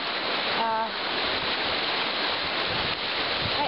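A river in Harrison Park, on Georgian Bay at Owen Sound, flows with a steady dense rush of water that stays constant throughout, with a brief tonal sound early on.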